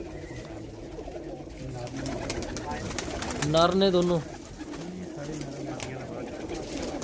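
Grey pigeons and golden breeder pigeons in a loft give soft, low cooing in a short burst, with steady background murmur and someone talking over it.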